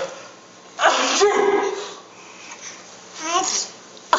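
Two babies, twins, sneeze in turn at close range, a sharp burst near the start and another toward the end, with soft baby babble and breathing between them.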